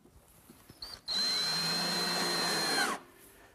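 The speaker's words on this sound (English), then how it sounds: "So we'll secure it with a few screws." A power drill runs steadily for about two seconds, driving screws into the wooden back of a shop-built clock. The whine is loud and close, with a short start and stop at either end.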